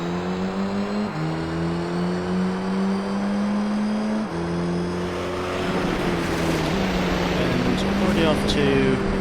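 Race cars revving at the rally start on the Tahiti Circuit in Gran Turismo 3, including a Peugeot 206: loud, droning engine whine rising through several gear shifts, with a gravelly rush building later and someone talking over it.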